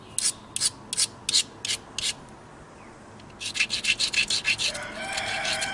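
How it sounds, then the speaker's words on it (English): A knapped flint point has its edge ground with a stone, giving rhythmic, close, raspy scraping strokes in two bursts, quick regular strokes then a faster run, with no talking. "So I'm going to grind this off, and then we're going to notch it."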